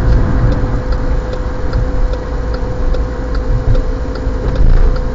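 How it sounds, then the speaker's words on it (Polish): A car's turn signal indicator ticks steadily in a regular rhythm during a driving lesson in Lublin, faint under continuous engine and road noise inside the moving car. "Kierunkowskaz pracuje aż do momentu, kiedy przestaniemy widzieć strzałki."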